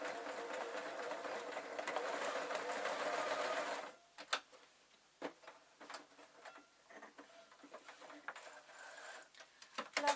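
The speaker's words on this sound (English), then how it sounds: "just a very simple straight line sewing." A sewing machine runs a steady straight seam on a fabric bias binding strip, a close, even whirring for about four seconds, then stops, leaving scattered clicks and handling noises.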